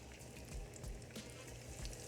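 Buttermilk-battered fish laid into hot oil for fish tacos, a faint, steady crackling sizzle of frying that continues evenly throughout.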